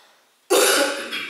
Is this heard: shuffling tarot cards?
no